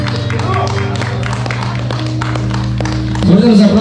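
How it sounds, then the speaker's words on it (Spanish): At a quinceañera party, guests clap as the godmother makes her entrance. Scattered applause pops over loud party music, with a voice briefly heard. "Fuerte los aplausos, por favor"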